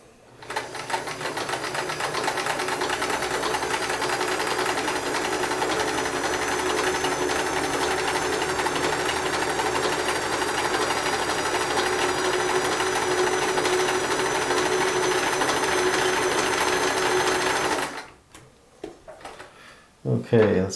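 A Sears Kenmore 158 series free-arm sewing machine stitches with a steady, loud mechanical whir that runs evenly for about eighteen seconds, then stops, leaving a few faint handling clicks.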